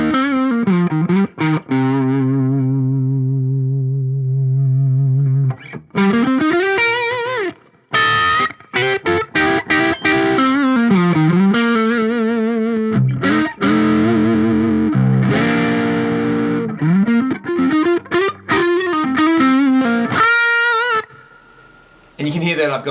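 A humbucker electric guitar, tuned down to low C, plays through a Mercuriall Reaxis amp sim with a Tube Screamer ahead of it, adding delay, reverb and light chorus. Loud, driven chords and riffs come in bursts with brief gaps.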